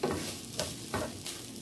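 Rice, broccoli and egg stir-frying in a pan, with a steady sizzle broken by a few scraping stirs of the utensil, close and fairly loud, no talking.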